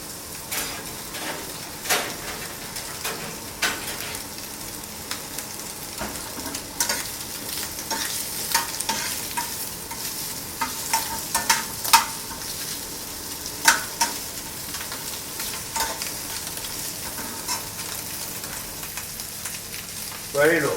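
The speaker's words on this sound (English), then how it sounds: "You can hear it start frying." Steady close sizzling of guanciale frying in a pan, with occasional clinks and scrapes of a utensil stirring.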